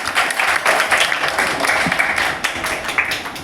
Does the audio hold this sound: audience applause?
yes